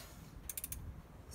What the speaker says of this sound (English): Now that the tap is started pretty well with no cross-threading, I'm going to use a socket for a little more leverage.